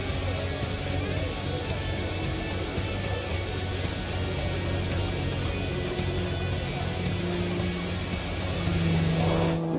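Pitts S2S aerobatic plane flying at the Las Vegas Aviation Nation air show, a loud, sustained engine roar that holds steady and swells near the end.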